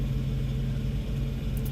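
Several parked semi trucks idle at a truck stop with their compressors running, a steady low engine rumble and hum that holds evenly throughout with no talking.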